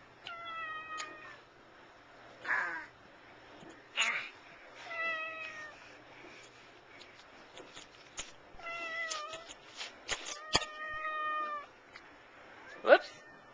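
A pet cat meows repeatedly at home on Christmas Eve, several drawn-out, rising meows spaced a few seconds apart, close and clear with people talking softly in between.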